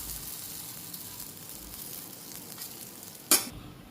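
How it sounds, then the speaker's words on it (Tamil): Stuffed chapati frying on a hot griddle stone gives a steady, close hiss of sizzling throughout, broken near the end by one brief sharp clatter, with no voices. "கல் நல்லா சூடாகவும் இதில் போட்டுருங்க."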